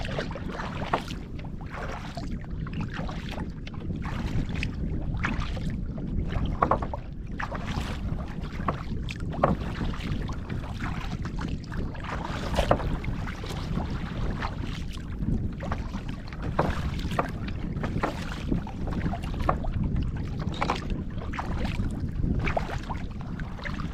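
Racing boat far off across a lake, a faint, steady engine drone under constant wind rush and water noise near a kayak, with no voices.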